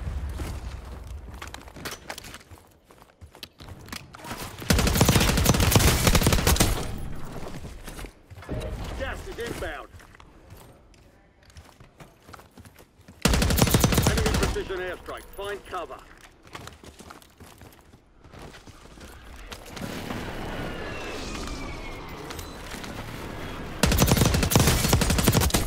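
Call of Duty gunfire on Rebirth Island, with loud bursts of automatic fire in several long stretches and quieter exchanges between them, while a player talks over the action.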